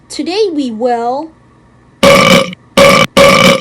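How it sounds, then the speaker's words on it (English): A schoolchild's burp in a classroom, three loud, raspy belches right after a woman's sung-sounding speech. "You just burped in my class."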